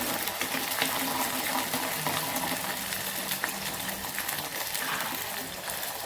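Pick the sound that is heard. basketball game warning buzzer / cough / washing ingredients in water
washing ingredients in water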